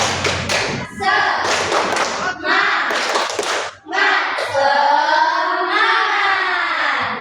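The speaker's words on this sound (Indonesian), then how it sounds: "ayo kita lakukan ice breaking tepuk semangat bersama-sama ya" Schoolchildren in a classroom perform a rhythmic 'tepuk semangat' clapping routine, a fast run of loud claps followed by sustained group chanting and shouting, close and busy, with the clapping mixed under the voices.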